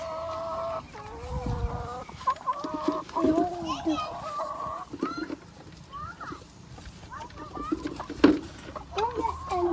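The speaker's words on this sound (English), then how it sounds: "Move, chicken move." Chickens cluck and squawk steadily inside a backyard coop during egg collecting, a busy overlapping chorus with rustling and people talking nearby.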